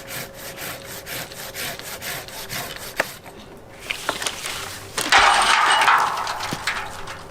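A hand saw cuts a tree limb during pruning with quick rhythmic rasping strokes, then a few cracks and a short burst of rustling as the piece gives way.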